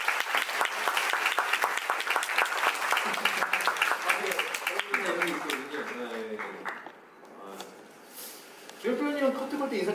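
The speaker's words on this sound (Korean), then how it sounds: "박수 쳐주세요" An audience at a stage greeting for the Korean musical Maybe Happy Ending claps loudly and continuously for about five seconds before the clapping fades and people begin talking.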